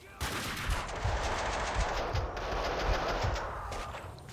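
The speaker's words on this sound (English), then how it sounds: "Like that AK pinging off there." AK rifle gunfire in Max Payne 2, rapid automatic bursts with sharp ringing pings and ricochets over a dense, noisy game soundscape, steady and fairly loud throughout.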